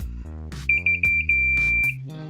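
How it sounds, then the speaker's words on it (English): A multimeter in continuity mode gives a high-pitched electronic beep as its probes touch, stuttering in a few short chirps before holding as one steady tone for about a second, close and clear over a low background hum. "you'll hear that beep noise"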